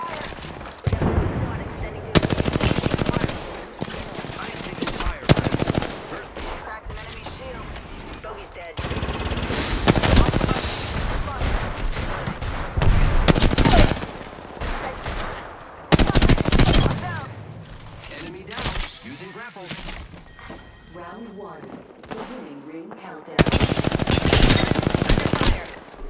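Rapid automatic gunfire in a first-person shooter video game, with bursts of shots that come and go over about 26 seconds, mixed with explosions and game sound effects, loud and close throughout.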